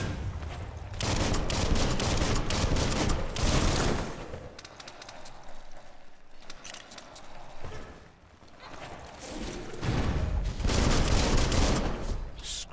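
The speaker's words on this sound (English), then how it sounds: "Bullets everywhere." Rapid bursts of gunfire in the video game Biomutant, loud and dense, coming in heavy volleys that pause briefly and then resume, with clattering impacts mixed in.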